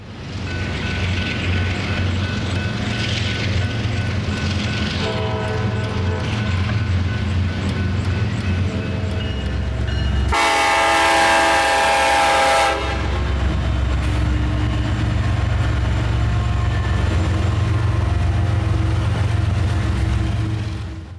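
A freight train sits at a railroad grade crossing, its loud rumble steady and close, with a horn blast of a few seconds cutting in midway over the low engine drone.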